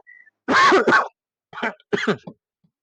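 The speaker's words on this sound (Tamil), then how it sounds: "ஆல்ரெடி இப்படிதான் மழையில் நெஞ்சுதான் இருமல் ஆரம்பிச்சு எனக்கு" A few rough, throaty coughs and throat-clearing bursts come in close succession, loud and near, separated by short pauses.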